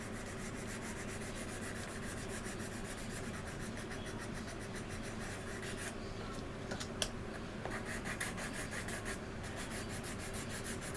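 An emery board sanding stick rubs a seam on an Anigrand C-124 Globemaster model kit nacelle, giving a continuous fine scratchy rasp of rapid back-and-forth strokes that runs close and steady throughout.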